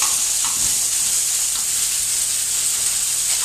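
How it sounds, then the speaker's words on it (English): Meat for a steak pie sears in a hot pan, a steady close sizzle and frying hiss running unbroken throughout with faint stirring scrapes. "so our meat is searing along nicely here"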